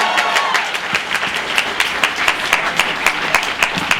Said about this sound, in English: Can we get a bigger applause for Susie?